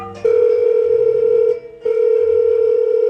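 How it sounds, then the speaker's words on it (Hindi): A steady telephone dial tone holds for over a second, cuts out briefly, then returns just as loud and continuous, with no voices over it. "अरे फोन लगाकर पूछ तो लूं कि वो घर पहुंचा के नहीं।"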